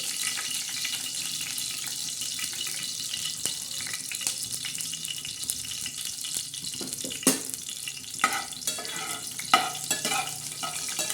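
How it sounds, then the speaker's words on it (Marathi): Garlic and cumin seeds tempering in hot oil for a dill greens and moong dal dish, crackling as a steady close sizzle with scattered sharper pops and stirring scrapes near the end, no voices. "आता याचा लसणाचा मस्त असा तडका बसत आहे"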